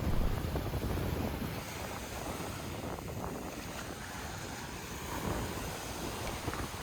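Wind and surf at Waimanalo Beach in Hawaii on an overcast day, a continuous loud roar of breaking waves and gusting wind buffeting the microphone, with no voices.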